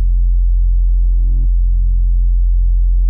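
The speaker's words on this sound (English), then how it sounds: "It's kind of like a sweeping little sine wave here." A sweeping sine wave synth patch built from a subby wavetable in Xfer Serum plays loud and steady, its tone gliding as the sweep retriggers partway through.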